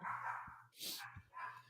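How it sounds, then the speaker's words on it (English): A guard dog barks in the distance: a few faint, muffled barks with short gaps between them, heard indoors under low background noise. "The guard dog's going off."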